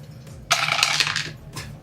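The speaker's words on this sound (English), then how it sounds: "So we will always end our turn by rolling the 2 blue enemy dice." Two blue enemy dice in a board game tumble and clatter onto a table in a quick rattling burst, followed by a brief second click a moment later.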